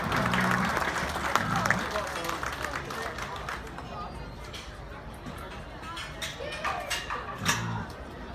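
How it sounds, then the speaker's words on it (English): Crowd at a youth swine market show claps in a round of applause that fades over several seconds, with voices and general hubbub mixed in. "Let's give them a round of applause."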